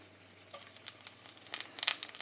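Olive oil, butter and Tommy spice sizzling in a cast iron pan, a faint brief crackle with a few soft pops, without talk.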